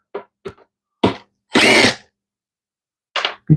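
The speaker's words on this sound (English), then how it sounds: "now I get to remove the screws again" Power drill backing screws out of a wooden jig at a band saw, several short close whirring bursts separated by silence, one longer run in the middle.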